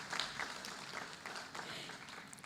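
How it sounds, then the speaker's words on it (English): A book-launch audience gives a speaker a round of applause, a faint, distant and continuous rustle of many clapping hands. "A huge round of applause for Professor K."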